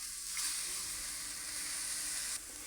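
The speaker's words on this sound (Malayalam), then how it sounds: "ഇതിനിയും നമുക്കൊന്ന് ഇളക്കി കൊടുക്കാം." Drumstick leaves with egg sizzling in a pan for muringayila thoran, a steady close frying hiss that swells as they are stirred, then drops abruptly near the end.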